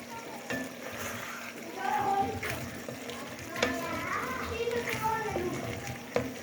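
A spoon stirs mongre into a vegetable, carrot and potato curry cooking in ghee in a pan, with steady sizzling and scraping close by, a few sharper clinks of the utensil and a voice talking in the background.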